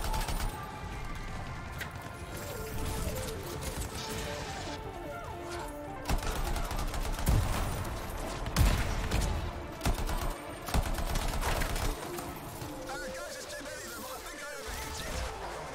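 Weapon fire from a suit of armour in the sci-fi shooter game Anthem, scattered bursts and impacts mixed with explosions and game effects, with someone talking over it.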